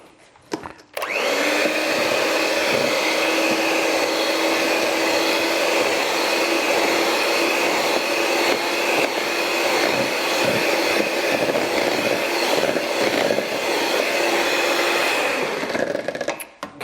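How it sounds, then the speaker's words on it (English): Electric beaters whir steadily through a chocolate mousse mixture, a continuous loud, close motor drone lasting about fifteen seconds after a brief click at the start and cutting off at the end, with no talk. "Now I'll just beat that."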